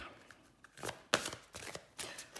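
Tarot cards slide and are laid over one another on a surface, giving several soft papery swishes and one sharper flick, close and quiet with no talk.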